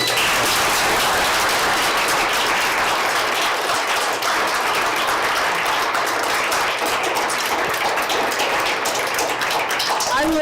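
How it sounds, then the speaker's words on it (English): Audience at a Logan municipal council meeting breaks into sustained clapping, a dense continuous patter of many hands at close range, with some voices mixed in. "I will ask that you do not clap."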